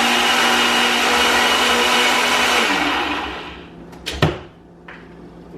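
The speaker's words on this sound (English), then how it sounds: "put this thing on this ninja blender" A Ninja blender whirs loudly and steadily as it blends protein pancake batter, then winds down around the three-second mark, followed by a few clunks and clicks as the jar is handled.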